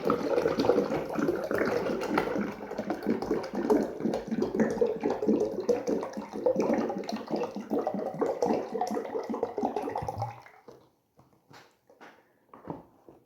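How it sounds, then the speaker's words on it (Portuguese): One litre of room-temperature water poured into a bowl of bread starter, a steady close splashing pour for about ten seconds that stops abruptly, followed by a few faint handling knocks. "Agora eu vou colocar aqui 1 litro de água,"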